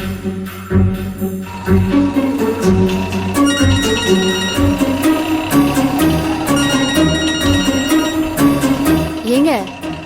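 A phone rings with a loud, melodic ringtone that plays continuously in a Tamil TV serial scene.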